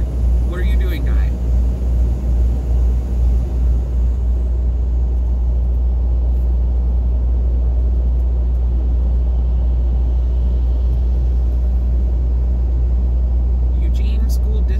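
Engine rumble and road noise from a car cruising at highway speed beside a Eugene School District school bus, a loud steady drone filling the whole stretch with no talk over it.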